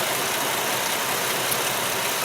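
A car engine idles steadily with its alternator under full electrical load, giving a continuous, even, close-up drone with no talk.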